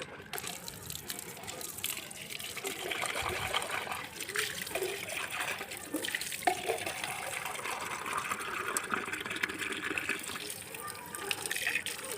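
Water is poured for pet pigeons in a steady, close trickle that runs continuously for several seconds. The splashing holds at an even level throughout.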